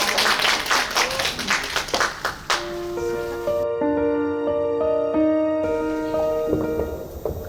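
At a summer poetry recital, a short burst of audience clapping fades out after a couple of seconds, giving way to sustained, clear musical tones that ring on alone as a piece begins.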